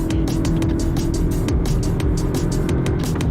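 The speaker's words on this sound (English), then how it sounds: "let me flick it into sport mode" A Lexus car in sport mode accelerates after a downshift, its engine droning steadily with a gruff, pulsing tone heard from inside the cabin.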